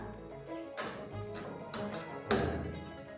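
An IFB 5.5 kg cloth dryer door being shut and latched: a few sharp taps and clicks, with a louder firm click-thud near the end, close by and with no talk.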